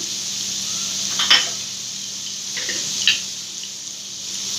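Chillies and spices frying in a pan for a crispy lady finger fry, a quiet steady sizzle with a couple of brief clinks or stirring bursts over a low hum.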